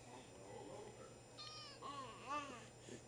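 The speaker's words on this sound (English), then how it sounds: "Kitty cat." A pet cat gives a few soft, rising meows, quiet and close in a calm room, with faint background hum.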